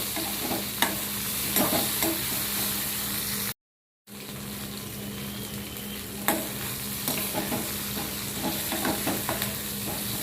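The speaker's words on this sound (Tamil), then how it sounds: "புளி இது எல்லாத்தையும் நல்லா சேர்த்து கொஞ்ச நேரம் அடுப்பை சிம்மில் வச்சுட்டு கொஞ்சம் நல்லா வதங்கட்டும்" Onions with coriander and tamarind sauté on a low flame for an okra chutney, giving a soft, continuous sizzle with light stirring scrapes, broken once by a short silent gap.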